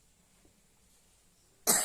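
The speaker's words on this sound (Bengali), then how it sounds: "শুধু যাতে কাশি আসছে" A single loud, harsh cough from someone who is ill bursts out at the end after near silence.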